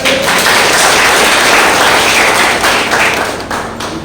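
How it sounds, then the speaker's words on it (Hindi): An audience claps together in a steady, dense burst of applause lasting several seconds, loud and close, fading slightly near the end. "एक बार ताली बजा दीजिए।"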